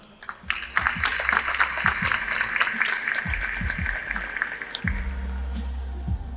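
Audience applause welcoming a speaker to the stage at a public-works conference session, steady clapping sustained throughout, with a voice speaking over it at intervals.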